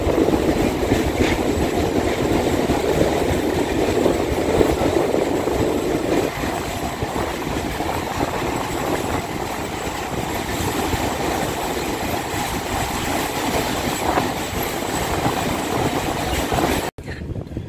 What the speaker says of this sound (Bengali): এই যে EMU কাশেট, Tikiapara south eastern railway.